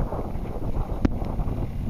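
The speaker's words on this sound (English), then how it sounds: "Another gust of wind coming in a minute." Wind gusting across a microphone while sailing a small boat, a steady rushing roar with buffeting, plus one brief knock partway through, no talking.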